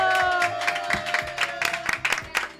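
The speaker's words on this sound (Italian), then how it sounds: "Emanuele, applauso." Live studio audience applauds and cheers for a guest named Emanuele on an Italian webcam radio show, a dense crowd clatter with a sustained tone underneath and a few whoops rising over the clapping.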